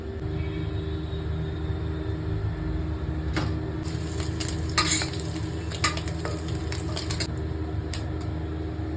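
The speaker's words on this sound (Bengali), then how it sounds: "চিংড়ি মাছটা বয়েল করলাম এবার তেলে ভাজবো" Boiled prawns fry in hot oil in a pan, giving a steady close sizzle and hiss that runs throughout, with a few scraping stirs clustered toward the middle.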